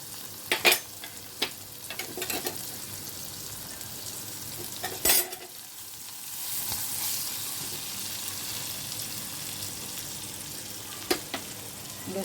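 Chopped onion, ginger and garlic hit hot oil with whole cumin and asafoetida. A few metal clinks and scrapes come first, then a close, steady sizzle of frying builds and carries on under occasional stirring taps.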